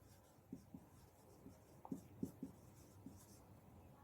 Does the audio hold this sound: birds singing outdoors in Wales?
no